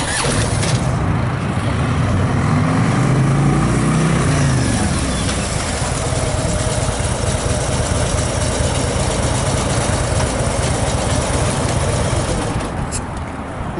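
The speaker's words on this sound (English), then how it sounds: "So now we'll do a couple of threshold braking, and you can tell there's no ABS" A motorcycle without ABS under hard threshold braking: a loud, continuous engine drone whose pitch sweeps and drops early on, then settles into a steady rumble with wind noise, close to the rider.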